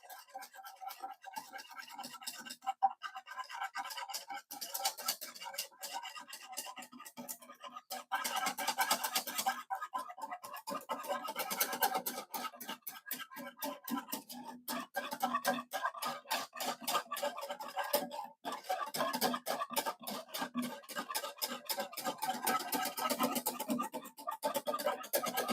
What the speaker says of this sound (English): And we'll whisk those together.